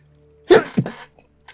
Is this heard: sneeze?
yes